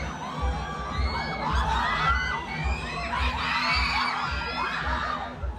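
Fans in a cinema screaming over a movie, a dense crowd of high-pitched shrieks and cheers layered over a pulsing low soundtrack beat, loud and sustained.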